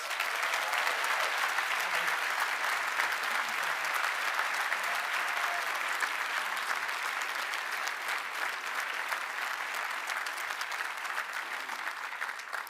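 An audience at a Cushing Academy commencement applauds steadily and evenly, a dense wash of clapping that holds for the whole stretch and fades slightly toward the end.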